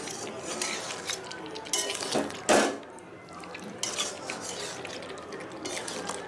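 A metal lid clanks back onto a pot of simmering chicken kasha, one sharp clatter amid soft scraping and stirring noises in a home kitchen.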